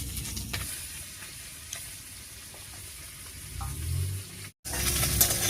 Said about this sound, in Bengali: এই মাছটা ভাজা হয়ে গেছে